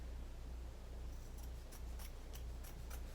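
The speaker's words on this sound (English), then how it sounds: "so I'm going to cut the other edge" Scissors cutting through a folded fabric edge for a no-sew pillow, six or seven crisp snips in a quick, steady rhythm, close up over a low background hum.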